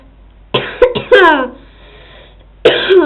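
Several harsh coughs close to the microphone, a pair of them early, then a pause before another rough cough.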